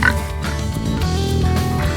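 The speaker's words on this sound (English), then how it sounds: "Those little grunty noises, those are happy noises." Pigs on a farm on Lopez Island, Washington, grunt in a busy, continuous stream of soft, content little oinks close by, mixed with other farm noise and a voice talking over them.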